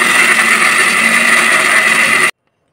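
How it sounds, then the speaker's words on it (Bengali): A mixer grinder blends coriander leaves, tomato, green chili, onion, garlic and ginger into a spice paste, giving a loud, steady whirring roar that cuts off abruptly. "আমরা এগুলো সব একসঙ্গে মিক্সিতে মিক্সিং করে নেবো"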